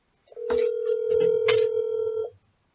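A single ring tone of an outgoing phone call on speakerphone, a steady electronic tone lasting about two seconds, close and clear, with a faint voice briefly beneath it.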